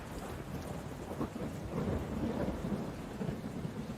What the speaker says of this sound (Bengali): সেদিন সকাল থেকেই বৃষ্টি পড়ছিল। বিদ্যুৎ চমকালেই আশেপাশের সব রাস্তা আলোর ঝলকানিতে উদ্ভাসিত হয়ে যাচ্ছিল।